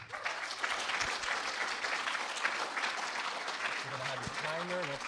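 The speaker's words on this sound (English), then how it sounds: "Give us a round of applause" Audience applause at a programming conference, a steady patter of clapping at moderate distance with a voice speaking faintly toward the end.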